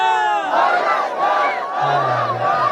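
A large crowd at a religious majlis gathering shouts a slogan in unison, a loud, sustained roar of many voices that swells and repeats, with a droning tone entering near the end.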